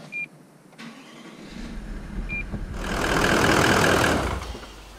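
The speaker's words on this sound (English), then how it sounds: "I'm just gonna idle it for 5 odd minutes just to get some heat into the engine oil so that it'll drop out easier" A Toyota Landcruiser 200 Series engine idles to warm its oil, a steady low rumble close by that swells louder in the middle with a broad rushing tone, with two brief high beeps early on.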